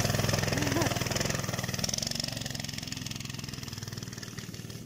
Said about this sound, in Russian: Велосипед с моторчиком,